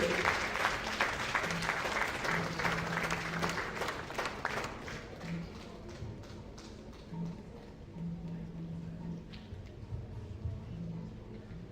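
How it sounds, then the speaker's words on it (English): Audience at an entrepreneurship lecture series bursts into louder applause, dense clapping for several seconds that thins out to scattered, fading claps and a quieter room with a low hum. "Let's make that applause louder and better than what we just did."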